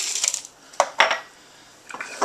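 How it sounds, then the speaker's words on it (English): Ice cubes clatter into a metal cocktail shaker during drink prep, a few sharp bright clinks at the start and middle, then a quieter rattle near the end, close and alone. "Alright, first up, ice in the shaker."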